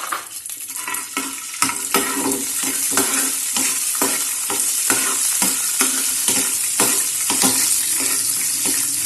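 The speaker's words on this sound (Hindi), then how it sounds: "चले ये हम पहले इसमें ऑयल में ये डालते हैं, इनको रोस्ट करते हैं" Garlic, green chilies, ginger and cashews roast in hot oil, a steady loud sizzle with repeated stirring scrapes throughout, no talking.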